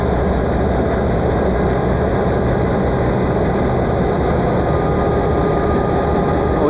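A stationary train locomotive at a level crossing near a terminal in Joinville, Brazil, giving off a loud, constant low engine rumble and hum, steady and unbroken throughout with no talking.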